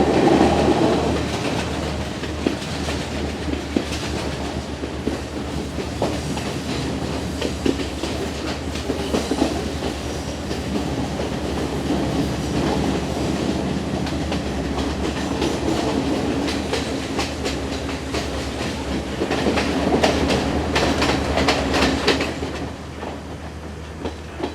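Passenger train on the Colombo to Kandy line, a continuous rumble with a rhythmic clickety-clack of wheels over rail joints, steady and fairly close throughout, with no one talking.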